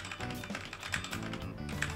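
Rapid typing on a computer keyboard, a steady run of close, crisp key clicks with a few heavier keystrokes, heard alone without talk.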